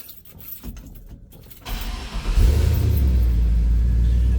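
A 1954 Chevrolet 3100 street rod cold-starts after a short stretch of quiet cranking, then settles into a loud, deep, steady rumbling idle close by.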